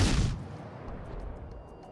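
A salvo from the Japanese cruiser Shimanto in World of Warships: one sharp, loud gun blast at the start that decays into a long rumbling tail.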